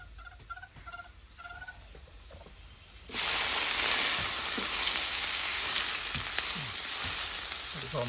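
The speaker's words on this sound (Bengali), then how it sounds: "মরিচ পেঁয়াজ একদম ভাজা ভাজা করে নেওয়া হলো তেলের সাথে" Quiet room sounds, then a loud hot-oil sizzle bursts in and continues steadily as onion and chili fry, crackling close by with no talking.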